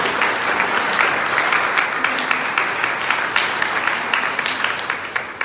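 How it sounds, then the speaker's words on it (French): A church congregation at a Sunday Mass breaks into sustained, dense applause, many hands clapping together steadily and loudly for several seconds before tapering slightly at the end. "Michael, on peut l'applaudir."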